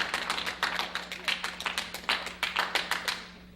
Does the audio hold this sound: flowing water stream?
no